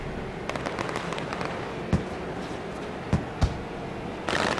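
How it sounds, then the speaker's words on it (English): Celebratory fireworks go off at a speedway near turn three, a few sharp distant pops and crackles scattered over a steady crowd-like background wash. "Celebratory fireworks taking place there off of turn number 3."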